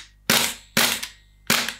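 Three sharp, loud shots from a Double Eagle Noveske N4 gas blowback airsoft rifle, each a hard crack with a short hissing tail, spaced evenly about three-quarters of a second apart.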